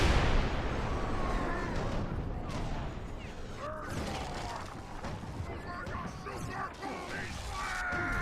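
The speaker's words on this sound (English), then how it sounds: "here we go, big explosion" A large explosion in a Minecraft-style block video game, with a loud blast followed by crackling, crashing debris and clattering mechanical noises over several seconds while someone talks.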